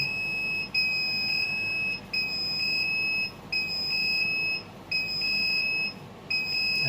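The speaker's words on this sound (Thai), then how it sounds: "ลักษณะเสียงเตือนและก็แสงเตือนนะครับ จะดังลักษณะนี้" A UV-C alarm box sounds repeated high-pitched electronic warning beeps in a steady on-off pattern, each tone held about a second, over a low background hum.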